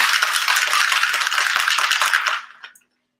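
Cocktail with ginger beer rattling hard in a shaker, a dense, loud, continuous clatter of ice against metal for over two seconds before it stops abruptly, with one small clink after.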